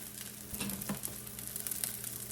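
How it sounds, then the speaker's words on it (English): Cooked rice for breakfast fried rice is scooped and pushed to one side of a hot frying pan. A soft, steady sizzle runs throughout, with a couple of light scraping touches, heard quietly and on its own. "We're gonna take our rice and scoop it off to one side of the pan."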